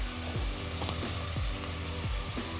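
Spices and aromatics sautéing in a pan for a makhana (lotus seed) biryani, a steady close sizzle and crackle with a few soft stirring scrapes, no voices.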